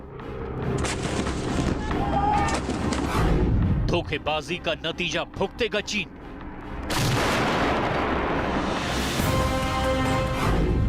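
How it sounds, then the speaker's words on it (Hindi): Heavy booms of artillery cannon fire and blasts of gunfire echo loudly over a dramatic voice-over, with a stretch of rapid repeated shots in between. "सरहद पर गरजेगी भारत की तोप"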